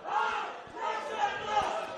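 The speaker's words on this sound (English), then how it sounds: "to the rousing applause of the home fans here at Heidelberg" Home crowd at a football match in Heidelberg cheering and applauding after an equalising goal, a distant swelling roar of many voices in two surging waves, fairly faint.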